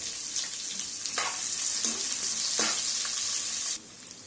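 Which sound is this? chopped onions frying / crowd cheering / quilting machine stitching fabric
chopped onions frying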